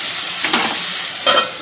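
A pan of paneer and cauliflower sizzles steadily while frying for a navratan korma, with a couple of brief stirring scrapes breaking through midway and near the end.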